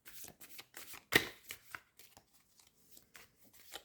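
Oracle cards are shuffled by hand in a quiet room, a run of soft papery riffles and slaps with one sharper snap near the middle, close and fairly faint.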